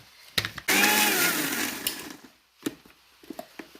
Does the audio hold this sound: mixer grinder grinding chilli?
yes